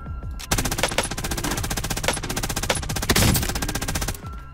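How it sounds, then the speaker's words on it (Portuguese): Automatic gunfire in the battle royale shooter Warzone: sustained, loud rapid-fire bursts with sharp repeated cracks over about four seconds, close and dominant with no talk. "tomando tiro"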